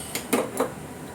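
Onions dropping into a cooking pot while making dinengdeng, giving three quick, close clunks a fraction of a second apart against a faint background hiss.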